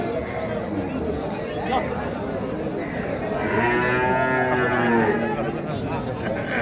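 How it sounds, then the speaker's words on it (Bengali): At a busy cattle market, a Sahiwal bull calf lets out a drawn-out moo of about two seconds. People talk and chatter all around it. "শাহিওয়াল ষাঁড় বাচ্চা।"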